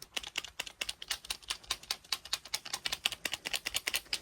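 Quick, light rattling taps come in a fast irregular stream from a shaken, tightly packed 119-gram sealed capsule, like small loose pieces knocking inside, fairly quiet and close.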